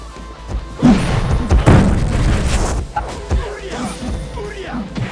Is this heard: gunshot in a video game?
yes